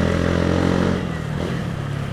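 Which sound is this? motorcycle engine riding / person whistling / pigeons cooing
motorcycle engine riding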